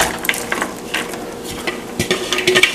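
Potatoes, carrots and celery going into a pot of clam juice, heard as close clatter, splashing and stirring with a few sharp knocks against the pot, busy and uneven throughout.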